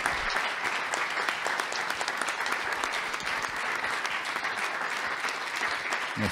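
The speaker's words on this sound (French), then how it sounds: "Et je pense qu'on peut les applaudir" Audience applause fills a French municipal sports assembly hall, a dense, steady clapping from a large crowd that holds at an even level throughout with no pauses.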